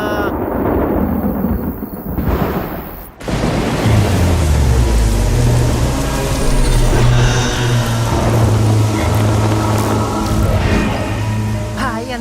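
Steady, heavy rain hissing close by, with low tonal sounds running underneath after a brief quieter start.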